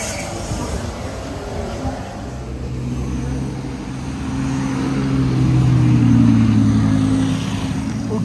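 A safety car passes along a race circuit, its engine hum rising in the middle and easing off toward the end, heard over a steady low drone.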